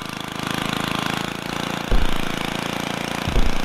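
A lawn mower engine runs in the Happy Wheels video game, a loud, steady buzzing drone with two sudden thumps as it bumps along.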